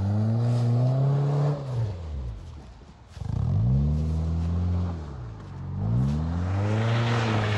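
A Honda Civic, two-wheel drive, revs hard while one wheel spins in mud, the engine droning and rising in pitch in long surges with a brief dip between them, loud and close.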